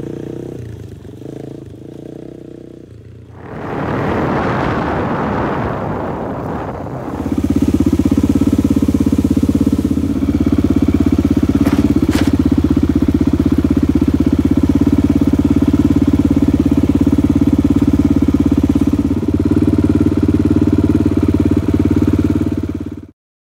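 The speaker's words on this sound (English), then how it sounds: "sometimes when I want to cover some serious ground, I take my Honda 400 and it is fun." A Honda 400 enduro motorcycle engine runs nearby, first a brief rough revving burst, then a loud, steady idle with a low, even throb that holds until it cuts off at the end.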